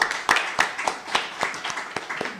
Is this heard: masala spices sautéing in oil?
no